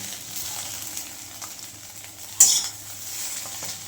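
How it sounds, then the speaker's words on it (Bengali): A fried egg is lifted out of a sizzling pan of oil, giving a soft, steady frying hiss with a brief metallic scrape of a utensil partway through; no speech. "এবার ডিমটা তুলে নেব"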